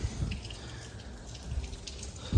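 A hose runs water to flush a 2008 Stingray boat's Volvo Penta GL-P-J engine, a soft steady trickle and splash with faint drips, close and fairly quiet.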